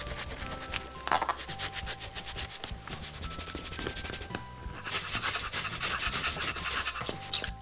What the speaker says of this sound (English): This brush will give them a good scrub while also giving them a nice massage.